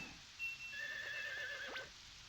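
A horse in the video game Harvest Moon 64 whinnies once, a bright rising-and-falling neigh ending in a short snort, over a low steady background with faint hooflike taps.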